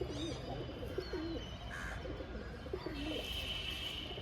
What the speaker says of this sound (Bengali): কাঁচা হলদে চোখের খুব সুন্দর একটি নর পায়রা